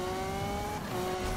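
A Lamborghini drifting in the Need for Speed racing game: a sustained, steady engine drone with tire noise, heard alone and fairly close for a brief moment.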